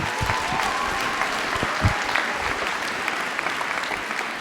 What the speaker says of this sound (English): Could we give our wonderful performers a round of applause?